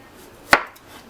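A knife cuts a bad spot off cooked turkey with one sharp, close chop, alone in a quiet room.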